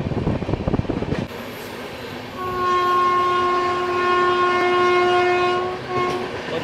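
A passenger train rumbles past with rolling clatter, and a long, loud, steady horn blast sounds over it before fading.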